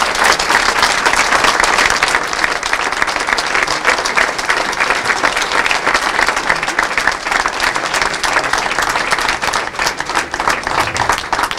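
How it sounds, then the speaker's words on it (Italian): A crowd at a club inauguration gives long, warm, sustained applause for Tommaso and his family, with thick, even clapping and no talk for nearly twelve seconds. "Voglio solo che voi facciate un lungo applauso e caloroso a Tommaso e alla sua famiglia."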